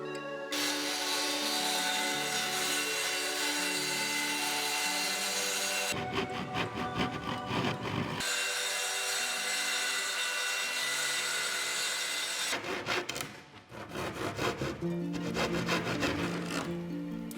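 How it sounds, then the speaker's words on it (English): Handsaw cutting through a plywood sheet for a folding flat-pack sofa, steady rasping strokes running continuously with two short breaks, close and loud with no talking. "cut it out with the circular saw and a handsaw"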